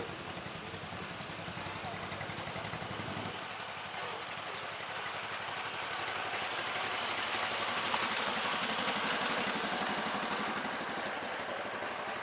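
A 1959 John Deere 430 tractor at an antique machinery parade, its engine chugging steadily at a distance beneath a continuous loud background wash and an announcer's voice.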